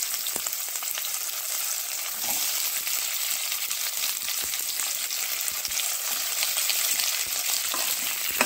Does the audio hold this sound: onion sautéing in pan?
yes